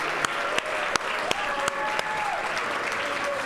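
Applause rises from a crowd at a Beach Cities Swimming 2023 banquet honoring swimmers, moderately distant and steady, with a few sharper nearby claps and a faint tone running beneath.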